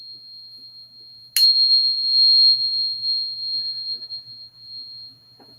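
A small crystal tuning fork is struck once and rings with a clear, pure sustained tone that slowly fades over several seconds, close and alone in a quiet room.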